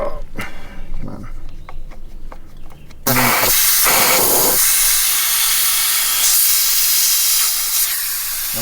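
A Staun 0-10 PSI tire deflator releasing air from a tire, a sudden loud, steady hiss of escaping air that starts partway through and holds, preceded by a few clicks and handling taps.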